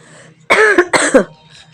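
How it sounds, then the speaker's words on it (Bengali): A short, harsh cough from a child with a cold in two quick bursts, close and fairly loud, against a quiet background. "কাশি হচ্ছে ঠান্ডা লেগে গেছে"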